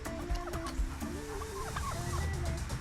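Chickens and a rooster cluck steadily and close by on a farm during early morning chores, with overlapping calls and no talking.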